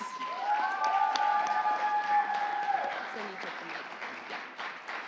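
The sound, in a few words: audience applause for pageant contestants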